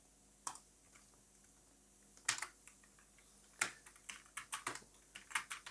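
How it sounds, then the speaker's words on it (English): Code being typed on a computer keyboard makes crisp, close key clicks, first a few isolated presses, then a quicker irregular run of keystrokes over a quiet room. "Type it out."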